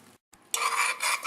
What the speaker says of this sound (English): Once the bechamel has started boiling like this and bubbling, turn off the heat